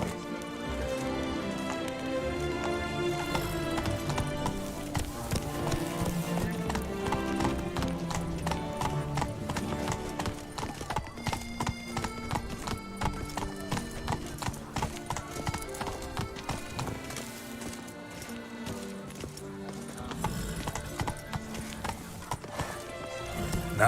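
Roach, Geralt's horse in The Witcher 3, gallops with fast, continuous rhythmic hoof clip-clops over a bed of game music, steady and fairly close, with a brief whinny and no talking.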